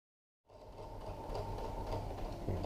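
A sewing machine stitches a seam on a Cricut Maker dust cover, running in a steady, close, continuous whir with a faint rhythmic pulse after a brief silent start.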